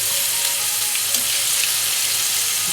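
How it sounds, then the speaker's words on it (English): Steak sizzling as it cooks in a pan, a steady hissing, crackling fry running evenly throughout at close range with no talk over it. "Now when the steak is continuing to cook"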